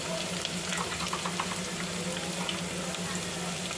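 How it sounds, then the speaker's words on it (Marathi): Curry leaves, garlic, cumin and mustard seeds sizzle in oil for a Maharashtrian amti, a quiet, steady frying crackle with small pops and a low background hum. "कढीपत्ता, लसूण आणि जिरे, त्यानंतर मी अर्धा चमचा मोहरी टाकलेली आहे"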